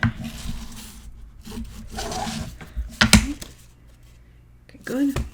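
Album pages for a Stamperia paper journal being burnished down by hand, dry rubbing and scraping strokes in short bursts, close and fairly quiet, with a voice talking in between.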